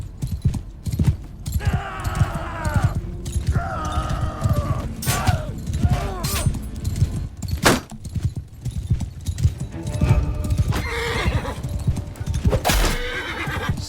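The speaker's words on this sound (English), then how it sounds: "Stop attacking my horse!" Horses neigh and whinny repeatedly over a steady clatter of hooves in the medieval battle game Mount and Blade II Bannerlord, several loud whinnies rising above the galloping rhythm, with scattered clanks of combat mixed in.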